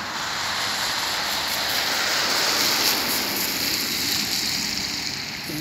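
Steady rain falling outdoors on a summer day in Sweden, a continuous broadband hiss of drops spattering on surfaces, even and fairly loud throughout with no talk over it.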